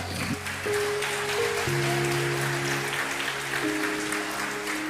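Church congregation clapping in praise, a continuous mass of applause layered over sustained keyboard or organ chords that shift pitch.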